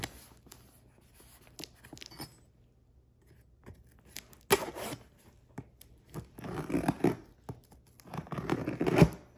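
Blade slicing and tearing through cardboard shipping boxes, scratchy ripping strokes in bursts that grow louder and denser toward the end, close by with no talking.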